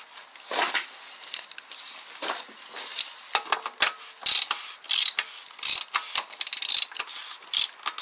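A ratchet tightening a 27 mm oil drain plug during an engine oil change, rapid bursts of close metallic clicking in irregular strokes separated by short pauses, no talk.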